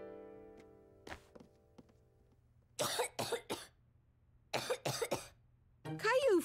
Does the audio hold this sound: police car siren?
no